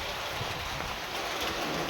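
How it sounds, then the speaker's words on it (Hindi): Heavy rain pours down with strong wind in a steady, dense hiss that holds unbroken and fairly faint throughout, with no voices. "ये देखो बारिश इतनी तेज़ हो रही है, हे भगवान, इतनी तेज़ हवा भी चल रही है साथ साथ में"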